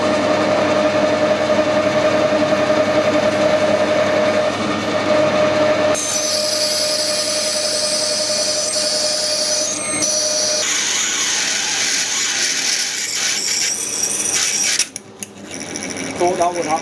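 Lathe drilling brass with a 10.2 mm tapping drill, a loud steady motor whine with scraping cutting noise, shifting in tone partway through as the drill bites and grabs, ending with clunks.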